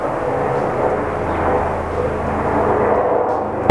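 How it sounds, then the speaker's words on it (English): A loud, steady roar of a helicopter engine and rotor, close and continuous, with a slight swell near the end. "That's a big helicopter."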